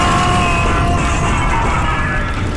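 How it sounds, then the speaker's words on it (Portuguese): A loud, dense explosion roars from a cartoon blast set off after a countdown in an animated children's episode about termites, a continuous rumbling crash that fills the whole moment at full volume. "Depois de uma explosão assim, será que sobrou algum cupim?"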